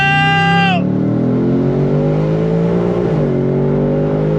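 A 2025 Ford Mustang GT 60th Anniversary Edition V8 pulls hard on throttle, its loud steady engine note rising after a brief high whine fades, with a dip around a gear shift near the end.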